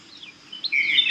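Birds chirping in a Coorg forest along a dirt road: high, bright tweets and short warbling calls, sparse at first and then a denser, louder run of song near the end, with no talk.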